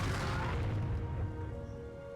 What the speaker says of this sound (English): A couple of tank shots do go off.